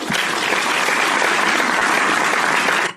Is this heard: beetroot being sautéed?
no